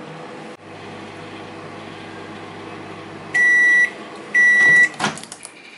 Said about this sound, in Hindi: थर्टी सेकेंड्स के लिए दोबारा हम माइक्रोवेव करेंगे।